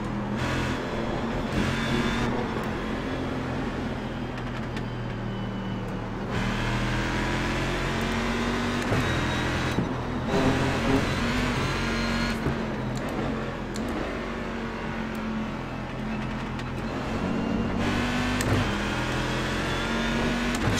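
Corvette race cars lapping Watkins Glen in the iRacing simulator: a continuous loud engine drone that rises and falls in pitch through gear changes and throttle shifts over about twenty seconds.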